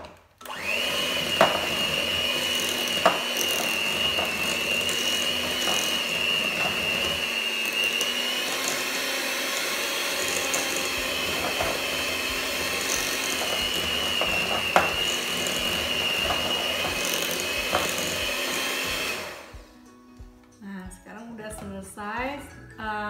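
An electric mixer whirs steadily while nastar cookie dough with condensed milk is stirred in a bowl, a continuous loud motor drone with occasional knocks, cutting off near the end as a voice speaks.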